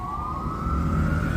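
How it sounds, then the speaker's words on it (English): A wailing emergency vehicle siren rising steadily in pitch over the street noise of Manhattan, New York City, heard continuously and moderately loud from a distance. "The life on the ground is business as usual, sirens and everything."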